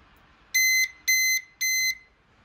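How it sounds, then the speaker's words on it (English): Kwikset Powerbolt 2 electronic deadbolt lock sounding three evenly spaced, loud, shrill beeps after a factory reset, each about a third of a second long, against near silence. "you're going to hear it beep"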